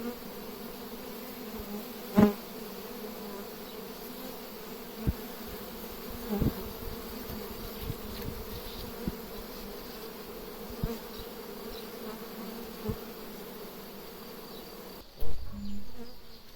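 A swarm of honey bees hums steadily from a captured swarm in an apricot tree, a continuous low buzz with occasional soft knocks and a louder bump near the end.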